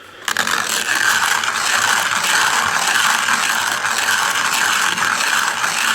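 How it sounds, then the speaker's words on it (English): A Hario ceramic hand coffee mill grinds coffee beans with a steady, close, continuous rasping crunch and a ratcheting mechanical texture, alone without talk. "it's not going to take as long to grind the same amount of beans"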